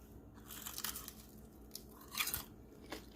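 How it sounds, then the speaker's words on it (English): Crisp crunching bites into fried lemon pepper chicken wings, a few close, sharp crackly bursts spaced across a few seconds over a quiet room, with no talking. "I hope you can hear the crunch."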